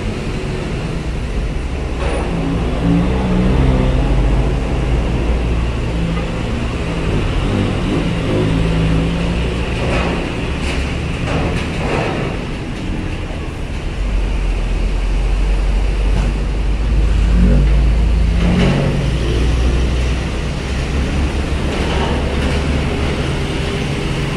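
Trucks and private cars queue at the express dock of Bakauheni ferry port, giving a steady, loud rumble of idling and rolling engines throughout, with occasional louder passing swells.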